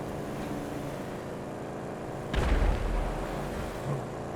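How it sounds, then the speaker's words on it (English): A single heavy explosion in GTA 5 bursts out midway through a rumbling game scene, a deep boom followed by a lingering roll, with no talk. "Explosions."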